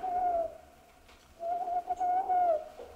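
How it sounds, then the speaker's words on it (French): An owl hoots near old burial tombs at night in a radio drama, two drawn-out clear hoots with a short quiet gap between them over a faint low rumble. "Ah, ce n'est rien. C'est un hibou."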